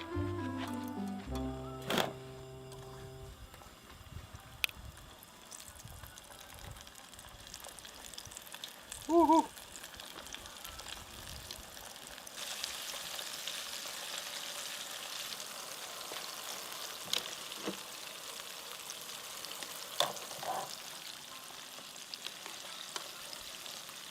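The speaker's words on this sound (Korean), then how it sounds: "기름도 어느 정도 달가진 것 같으니까 요거를 튀겨주도록 하겠습니다" Food deep-fries in hot oil with a steady soft sizzle and crackle, faint and close, broken by a few clinks and handling noises.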